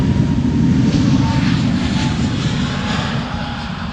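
A jet airliner departs at Amsterdam Schiphol Airport, a loud, close, sustained engine roar with heavy low rumble and a broad hiss that eases slightly toward the end.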